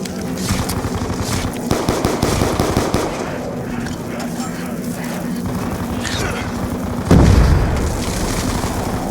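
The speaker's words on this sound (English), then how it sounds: "Paperboy kills himself with his own grenade." Video game combat with rapid gunfire bursts and a heavy explosion as a player's own grenade detonates near the end. The blast is sharp and loud over a steady background hum of firing.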